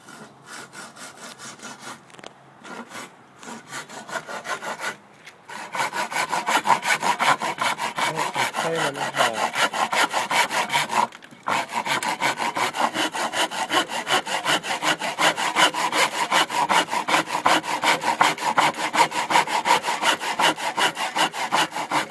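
A saw cuts through a 6.5 foot log in a steady, rasping back-and-forth rhythm that is close and loud, with a few brief pauses early on and then continuous strokes.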